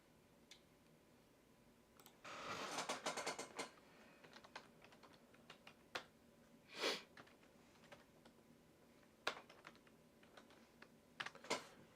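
Someone types on a computer keyboard whose C key works poorly. There is a quick burst of keystrokes near the start, then scattered single taps and short clicks, all quiet and close with no talk.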